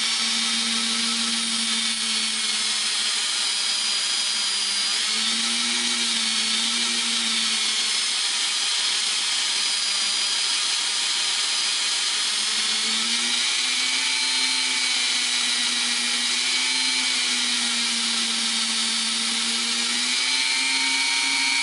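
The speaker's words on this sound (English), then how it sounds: "my flex shaft. And I've got my polishing tip in here." A flex shaft rotary tool fitted with a polishing tip whines steadily and loudly while shaping wire for a wire-wrapped crossbar pendant, its pitch dipping and rising slightly as the load changes, with no voices.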